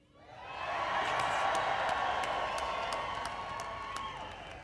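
A commencement ceremony crowd roars, shouting and cheering together, swelling quickly to a loud sustained wash of voices and claps, then slowly easing off. Sharp individual claps punctuate the roar.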